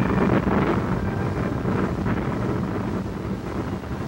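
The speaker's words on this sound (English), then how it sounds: "For the first time, the desert calm was shattered by the roar of jet engines." Bell P-59 jet engines, America's first jet-propelled airplane, roar over the desert in a steady, loud, broad rushing rumble that holds without a break.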